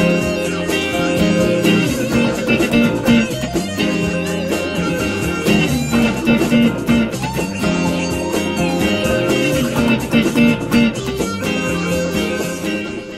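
Funk guitar break, a rhythmic strummed groove with choppy chord hits played alone and continuously, steady and fairly loud throughout.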